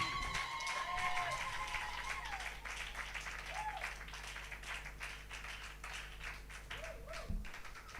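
A Sunday church congregation bursts into dense clapping and cheering for God. Rapid overlapping handclaps and crowd noise run steadily throughout, with a low sustained hum and brief sliding tones beneath.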